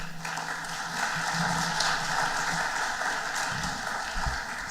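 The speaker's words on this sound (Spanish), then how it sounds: "Por favor, recibámosla con un aplauso." An audience gives a sustained round of applause to welcome a speaker at a road-safety presentation. The dense, even clapping holds steady throughout.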